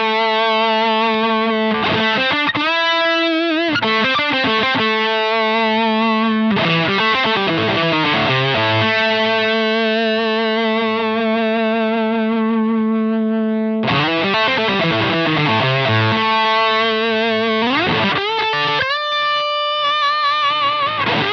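A Mark 1 fuzz pedal on electric guitar, run with a Fender Level Set Buffer, gives thick fuzzy sustained notes and bends with sliding riffs and held chords, loud and close throughout with no voices.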